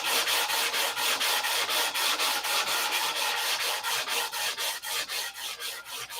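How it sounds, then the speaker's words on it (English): Hand sanding of fillets with steady, rhythmic back-and-forth strokes, close and continuous, with no voices. "You got to sand all them shiny spots out."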